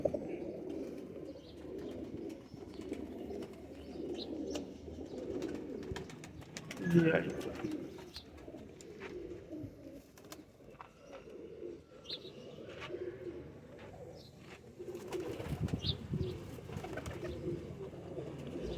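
Pigeons cooing in a loft among a group of about thirteen birds, soft low coos and occasional chirps under a steady background hum, with rustling and a brief louder disturbance midway.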